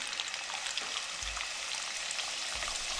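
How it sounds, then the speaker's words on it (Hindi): Puri frying in hot cooking oil for halwa puri, a steady dense crackling sizzle that continues throughout, with soft low thumps now and then and no voices. "अब इसमें हम पूरी फ्राई करेंगे।"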